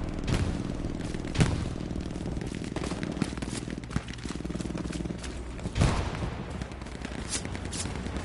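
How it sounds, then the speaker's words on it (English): Machine gun fire in the World War II shooter Hell Let Loose, dense battlefield shooting with repeated sharp cracks and a few louder nearby bangs over constant rumbling combat noise. "Behind me, machine gun."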